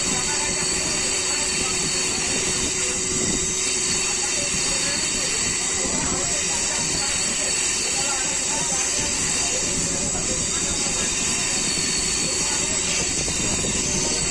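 A Howrah–Amta local train with few passengers rounds a curve in the line, giving a loud, unbroken roar of wheels on rails with hiss and high metallic squeal throughout.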